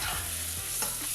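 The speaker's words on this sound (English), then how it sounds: "So now we've got these frying." Ingredients for black beans frying in a pan, a steady close sizzle with brief stirring scrapes, no talk.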